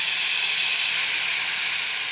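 Water poured into a hot pan of fiery homemade red chillies sends up a loud, steady, broadband hiss of steam that holds evenly throughout, close and alone.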